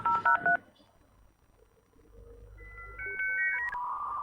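A few short dialing tones, a quiet pause with low hiss, then rising electronic handshake tones and noisy squeals as a dial-up modem connects.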